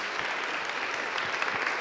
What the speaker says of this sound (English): Group a round of applause for their work this year.